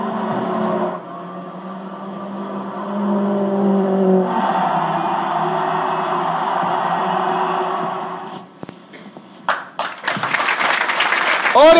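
An audience at a year's-best racing driver awards ceremony applauds in a sustained burst, then fades into scattered claps and noise at the end.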